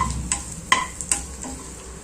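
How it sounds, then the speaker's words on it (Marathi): Urad dal frying and stirred in a pan with onion and chilli, a soft continuous sizzle broken by a few sharp clicks and scrapes of a spoon against the pan, close and fairly quiet. "उडीद डाळ पण थोडी शिजून घेऊया।"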